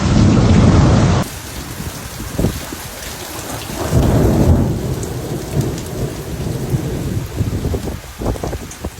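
A thunderstorm with heavy rain over Brisbane, Queensland: steady rain hisses throughout while deep thunder rumbles and rolls in several waves, with one loud burst at the start.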